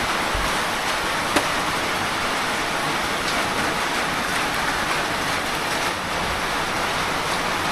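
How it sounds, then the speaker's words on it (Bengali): Steady, dense rain falls at a forest camp in Kakrajhore, a continuous even hiss close by with no voices and no breaks across the whole stretch. "আর সেই তখন থেকে চলছে বৃষ্টি।"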